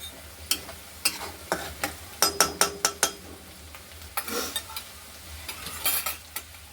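Cauliflower and chana dal sizzle in a pan while being stirred, a steady fry hiss broken by a dozen or so sharp clinks and scrapes of the spoon against the pan, fairly close and without talk.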